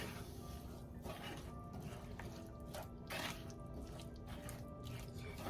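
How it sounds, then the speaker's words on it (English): Water is poured into a pan to rinse it, giving a soft trickle with light splashing and dripping. It is quiet and close, over steady low background noise. "I'm just going to rinse off this with a very little bit of water"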